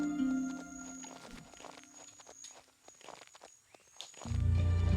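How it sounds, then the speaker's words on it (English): Footsteps of a character in the video game Biomutant crunch over cobblestone and gravel, a soft irregular run of steps under a steady tonal game soundtrack, fading quieter mid-clip before the music swells again. "Nice little cobblestone sound, gravel sound up there for my footsteps"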